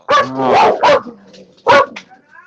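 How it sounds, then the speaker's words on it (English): Dogs bark and yip close by in a few sharp bursts, with a whimpering tone between the barks. "I swear, your dogs always bark when they hear my voice."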